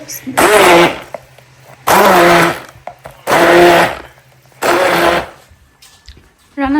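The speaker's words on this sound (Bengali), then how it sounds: "শিল্পাটা নিয়ে কি করব এই জন্য ব্লেন্ড ব্লেন্ডার দিয়েই" An electric blender grinds ingredients for a bharta in four loud, steady bursts of whirring, each about a second long, separated by short pauses.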